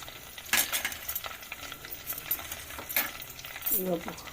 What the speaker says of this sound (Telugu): ఉల్లిగడ్డలు కట్ చేసుకున్న ఉల్లిగడ్డలు వేసుకోవాలి